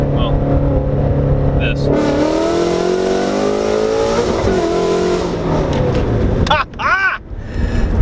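A 510 whp full-bolt-on Ford Mustang GT350 engine roars loudly from inside the car while driving, its pitch climbing through a long pull, then blipping sharply with quick rev-matched downshifts as the driver talks and laughs over it.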